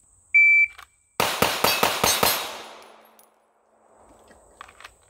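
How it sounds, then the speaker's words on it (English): Five rapid pistol shots from a Smith & Wesson Bodyguard 2.0 at 10 yards ring off a reduced C-Zone steel plate, each sharp crack followed by a metallic ping, the string trailing into a decaying ring; a short electronic beep precedes them. "I'm shooting at a reduced C-Zone steel plate so you can hear the hits"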